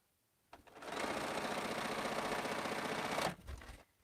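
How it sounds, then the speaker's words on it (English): A sewing machine stitches quilt blocks for an African-style bento box quilt, running in one steady continuous burst of about three seconds, close and fairly loud, then stopping. "We'll sew another one so I can show you that one."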